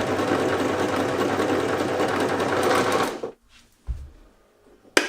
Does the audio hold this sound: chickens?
no